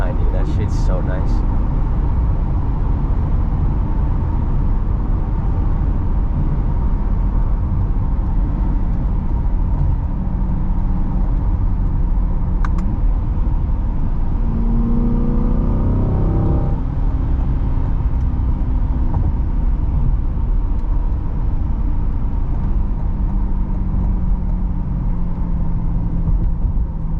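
A C8 Corvette's engine and exhaust drone steadily from inside the car at night, the pitch rising and falling through gear changes over road noise.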